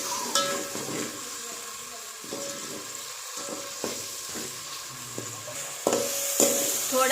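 Tomato paste, red chillies and spices fry in a pan with a steady close sizzle, broken by the scrape and clink of a spoon stirring every second or so.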